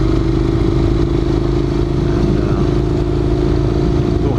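A Honda NC700X motorcycle on a rough washboard dirt road, its engine drone steady and loud with constant rattling, jolting clatter from the bumpy surface.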